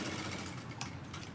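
A sewing machine runs steadily while stitching piping along the edge of lined fabric, a continuous close mechanical whir lasting the whole short stretch with no voices.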